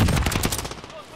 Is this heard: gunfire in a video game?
yes